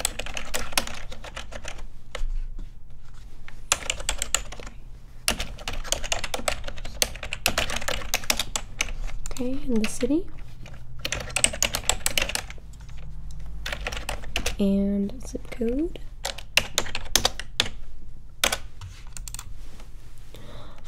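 Close, crisp typing on a computer keyboard while filling in an interview form, with quick bursts of clattering keystrokes and short pauses; a soft voice speaks briefly between the bursts.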